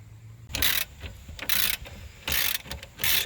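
A ratchet wrench cranks bolts on a Jeep leaf spring pack in four loud, evenly spaced bursts of rapid clicking, each lasting about a third of a second with short pauses between.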